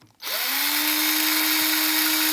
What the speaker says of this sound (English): I'm just going to drill some pilot holes with this 3mm drill